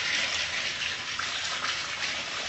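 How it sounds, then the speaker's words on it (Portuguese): Water gushing steadily from a tap into a pot being filled for cooking shrimp, a continuous loud splashing rush with no pauses and no talk. "Tô colocando a água, uma quantidade de água"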